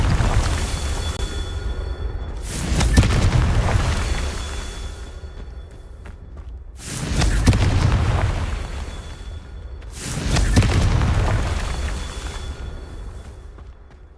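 Three booming Confringo spell explosions in Hogwarts Legacy burst at spaced intervals, each a loud blast that rolls and fades before the next, with no talking.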